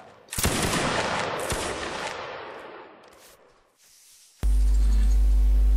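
Musket volley fire in a line-battle video game, a dense crackling burst of massed shots that trails off over several seconds, then gives way to a steady loud tone.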